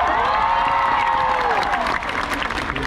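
A large crowd at an outdoor political grand rally in General Trias, Cavite, applauds and cheers loudly and continuously, with whoops and a voice carrying over the noise.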